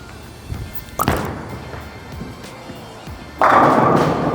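A Radical Zigzag asymmetric bowling ball lands on the lane with a sharp thud and then rolls away with a loud, steady rumble in a bowling alley.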